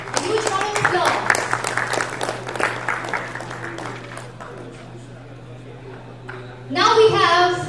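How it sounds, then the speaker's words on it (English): Applause from a conference audience at a blockchain summit in Gujarat, rising under a speaker's voice and fading midway, then swelling again near the end. "A huge round of applause."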